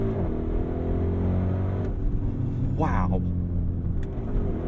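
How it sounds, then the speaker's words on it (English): A 2023 Audi RS Q8 V8 engine roars under hard acceleration from inside the cabin, with a rising sweep through an upshift partway through. A brief spoken exclamation sits over the loud, steady engine rumble. "The V8 just sounds appropriately flustered now."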